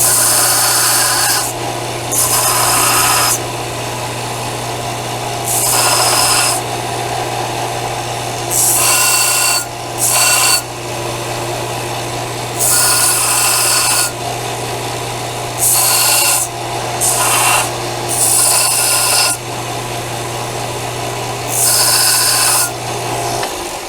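A power tool grinds and sands in a shop to soften the edges of a metal part for a trailer, running in repeated bursts of a few seconds each over a steady low hum, close and loud.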